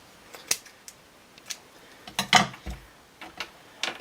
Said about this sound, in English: I'm just going to cut it out.